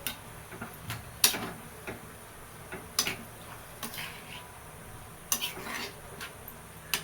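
Spring onion bhaji with moong dal being stirred in a pan: repeated scraping clicks of a spoon against the metal at irregular intervals, close and moderately loud, with no one talking.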